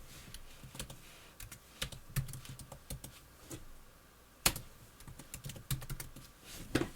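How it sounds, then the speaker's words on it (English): Rapid keyboard typing clatters in irregular bursts of sharp clicks, fairly close, with a few louder key strikes standing out. "When Elliot aggressively typing."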